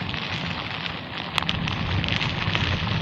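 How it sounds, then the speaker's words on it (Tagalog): Very heavy rain pours down steadily, a dense broadband wash with a low rumble of wind and no voices, continuous and loud throughout. "napakalakas ng ulan"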